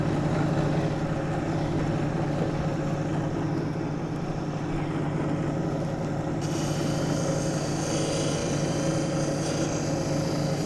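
Petrified wood from Arizona is shined on spinning polishing wheels, giving a steady, dense machine whir and grinding hiss that stays constant throughout, with a brighter edge entering partway through.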